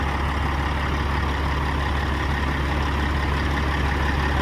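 A stock Caterpillar C15 diesel truck engine with a max effort tune runs at high RPM, a loud, steady, deep drone held close and unbroken with no talk over it.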